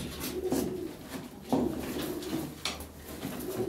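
Pigeons coo and rustle as they are handled and dropped into a box, with soft repeated coos and a few sharp knocks or flaps close by.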